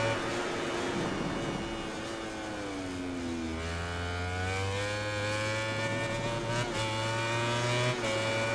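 Racing motorcycle engine in MotoGP 19 at the Thailand circuit, a loud continuous high-pitched whine that drops and then climbs steadily as the bike accelerates out of a corner, alone without talk.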